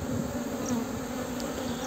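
Honeybees buzz steadily around an open hive frame during a vertical hive expansion, a dense continuous drone close by with no voices.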